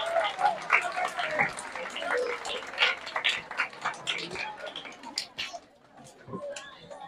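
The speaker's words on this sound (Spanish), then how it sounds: "Un aplauso para nuestros participantes de todas las olimpiadas" Audience applause for math olympiad participants at a school tribute ceremony, a scattered crackle of clapping with some voices, fairly faint and fading toward the end.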